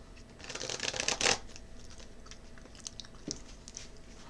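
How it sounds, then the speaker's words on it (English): Tarot cards being shuffled by hand during a love reading, a short burst of riffling crackle near the start followed by scattered soft taps and flicks, close and alone without speech. "I am shuffling the cards"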